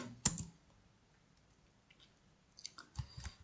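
Keystrokes on a computer keyboard while MATLAB code is entered, a sharp click near the start, then near silence and a quicker cluster of soft taps toward the end, close and fairly quiet.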